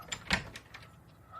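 A front door opens with a short click and rattle followed by a faint swish, heard close and alone without any talking.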